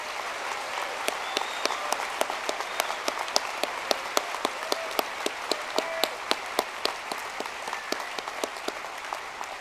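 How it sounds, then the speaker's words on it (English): Sustained audience applause at a university commencement ceremony honouring a graduating class, a dense steady wash of many clapping hands with sharp individual claps standing out, continuing evenly throughout. "Would the audience please join with me in a round of applause for the class of"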